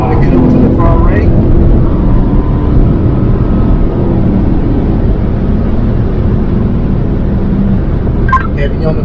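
BMW M3 Competition xDrive pulling hard on the Road America race track, a continuous loud engine roar with heavy wind and road noise throughout, a few faint brief chirps at the start and end.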